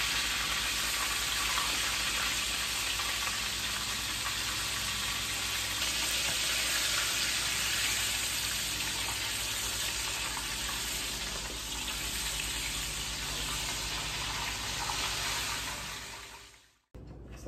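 Chicken pieces frying in hot oil give a loud, continuous sizzle and crackle that holds steady, then cuts off abruptly near the end.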